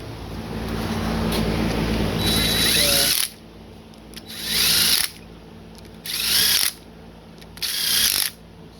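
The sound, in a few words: socket wrench running down 10 mm bolts on LS engine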